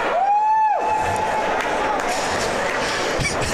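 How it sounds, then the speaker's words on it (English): A loud crowd of Oregon Ducks fans roars in an arena at a Ducks vs. Washington Huskies game, a sustained cheer following a brief whistle-like tone at the start. "They're a lot louder. They've got more to cheer about."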